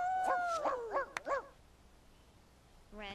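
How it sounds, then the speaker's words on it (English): A Sims 2 dog lets out a quick run of four or five whiny, yelping barks close by. The barks fade to quiet, then another brief whimper sounds at the end. "we got dogs growling at us for no reason"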